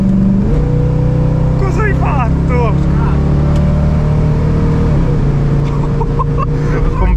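An American car's engine rumbles and revs during a test drive, a steady low drone with rising pitch sweeps as it accelerates, with people talking throughout.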